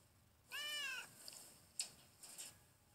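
A cat in the video game Vampireville gives one clear, rising and falling meow, followed by a few faint short sounds against quiet background.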